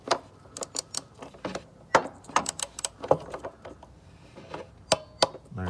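Torque wrench working on the oil level sensor bolts of a BMW N20 engine: a quick series of close, crisp ratchet clicks and metallic ticks in irregular bursts, with no talk.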